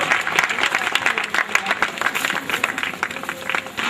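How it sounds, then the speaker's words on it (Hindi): Audience applause at a book release ceremony, a dense and steady patter of many hands clapping at once that continues without a break, lively and close. "करतल ध्वनियों में कंजूसी नहीं होनी चाहिए"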